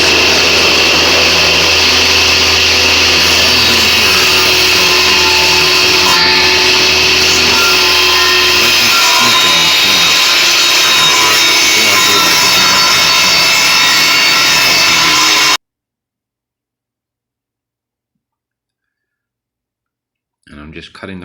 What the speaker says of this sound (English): I'm just cutting the corners off just to give me that little tiny head start when I do put it on the lathe